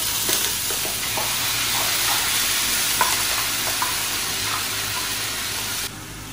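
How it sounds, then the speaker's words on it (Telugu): Tomato puree frying and sizzling in hot oil in a pan, a steady close crackle with occasional stirring scrapes and clinks throughout. "టమాటా ప్యూరీ చేసిన తర్వాత ఆయిల్ పైకి వచ్చేంత వరకు మనం వేపుకోవాలన్నమాట"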